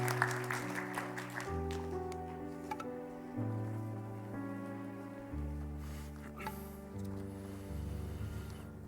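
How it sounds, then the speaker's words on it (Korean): A church congregation at a prayer service claps to welcome the pastor, a soft, scattered applause mixed under sustained keyboard chords that change slowly and dominate. "박수로 환영하도록 하겠습니다"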